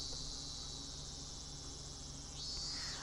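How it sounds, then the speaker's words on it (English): A dense chorus of cicadas drones continuously in a visual novel game scene, a bright, steady buzzing wall of sound with a slight swell near the end, no talking. "The great chorus of cicadas was strongly underlining"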